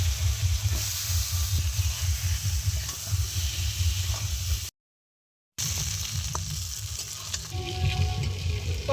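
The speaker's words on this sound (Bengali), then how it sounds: "এবার আমি আলুটা তুলে পটলও ভেজে নেবো" Pointed gourd frying in mustard oil in a pan, a steady close sizzle with regular stirring scrapes and no talk, briefly cut silent midway before the frying resumes.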